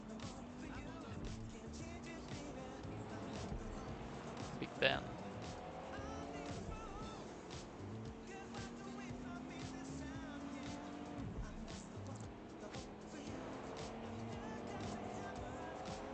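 Engine drone of a car driving in Watch Dogs Legion, steady throughout with a brief sharp burst near the middle, running under continuous talk.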